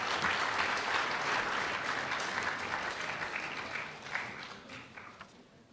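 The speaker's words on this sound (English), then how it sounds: "Give these guys a round of applause." An audience at a sports banquet applauds steadily in a dense, sustained clapping that slowly tapers off over several seconds, with no voices over it.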